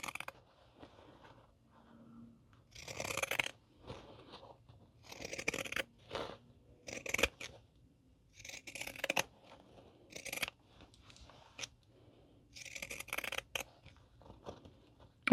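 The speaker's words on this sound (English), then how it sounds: "I'm gonna take and trim at my seam allowance." Pinking shears snip through fabric to trim a curved seam allowance on a reversible cup cozy, giving a series of separate crunchy cuts in uneven bursts, close and fairly quiet, with silent pauses between them.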